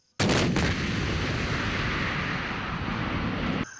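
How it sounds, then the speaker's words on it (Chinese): A heavy artillery barrage at a night-time live-fire exercise on a training ground, a loud continuous roar of massed gunfire that erupts suddenly and holds steady for several seconds before cutting off. "借着第一轮猛烈的炮兵火力掩护，坦克分队迅速开进至前沿阵地。"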